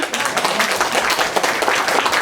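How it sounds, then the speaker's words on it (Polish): A steady burst of clapping from a crowd, dense and even throughout, with no pauses. "Brawa, brawa."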